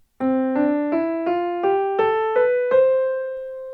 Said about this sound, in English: Mode 1, Ionian, begins on the first note of the scale,